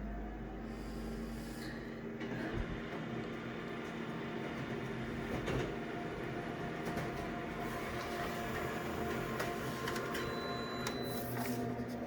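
A color printer runs steadily at close range, a continuous mechanical whir with faint clicks and a soft rising tone near the end, and no one speaks.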